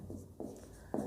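Pen writing an equation on paper, a few short scratchy strokes close by, with brief pauses between bursts and no talk.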